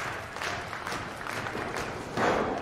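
A wrestling crowd at a Sedalia, Missouri event cheers and claps for Derek Teter as a steady roar, swelling near the end with no clear talk on top.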